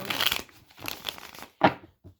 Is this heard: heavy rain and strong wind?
no